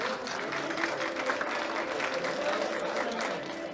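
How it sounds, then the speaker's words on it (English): Sustained audience applause for powerlifting medalists leaving the stage after a medal ceremony at a world sub-junior and junior championship, a steady dense wash of clapping in a large hall with crowd murmur beneath. "Please join me in giving these gentlemen a round of applause as they leave the stage"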